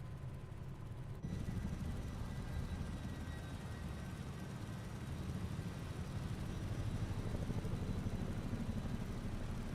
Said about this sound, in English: I can still hear the Chinook, though.